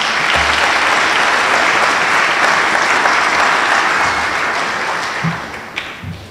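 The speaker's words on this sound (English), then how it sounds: "If you can help me join in thanking them with a round of applause." Loud, sustained applause from a large concert audience, thick clapping that gradually thins out toward the end.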